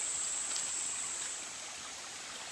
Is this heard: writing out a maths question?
no